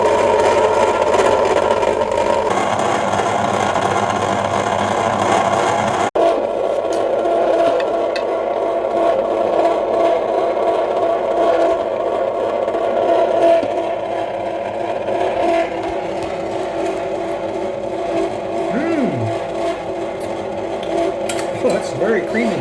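A Cuisinart ice cream maker churns vanilla ice cream with a steady mechanical whir and hum that runs throughout, while people talk over it for much of the time.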